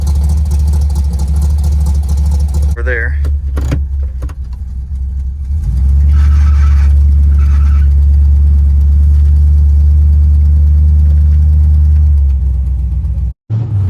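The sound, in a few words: car engine running while being moved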